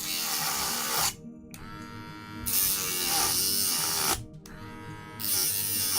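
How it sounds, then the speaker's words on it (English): Dremel rotary tool cutting a flimsy craft piece, a loud high whine that runs, drops away briefly and restarts twice as the bit bites and releases. "I'm going to try this one with my Dremel"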